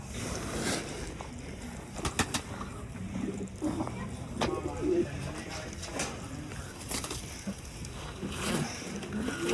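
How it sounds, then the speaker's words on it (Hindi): Pigeons coo softly at a goat farm, a low steady murmur with occasional sharper clicks and flutters against a constant background hum. "सिर्फ एक ही कबूतर बाहर है।"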